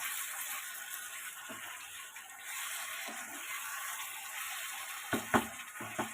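Fried potatoes and pointed gourd sizzle in a pan with a steady, faint hiss. Near the end there are a few light clinks and scrapes.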